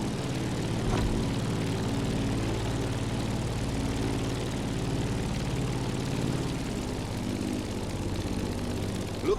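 A propeller airplane engine in The Crew Motorfest hums steadily while climbing, a loud continuous throbbing drone with a low buzzing rumble that holds evenly throughout.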